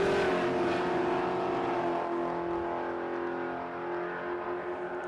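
Camaro on a drag strip at Willowbank Raceway, Queensland, during a drag racing round, its engine roaring loud and steady under full throttle, continuous for the whole stretch with no talk over it.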